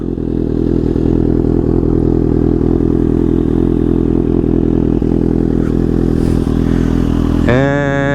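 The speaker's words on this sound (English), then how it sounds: "here's what it sounds like at idle" Kawasaki ZX6R sportbike fitted with a LeoVince exhaust idling, a loud, steady low burble close by, with a short rising blip of revs at the very end.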